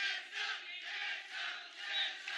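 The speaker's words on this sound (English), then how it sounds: "Fans chanting, cheering on" Wrestling arena fans at a live televised show chanting and cheering in a steady, pulsing roar that swells and dips in waves, heard from a distance with no nearby talk.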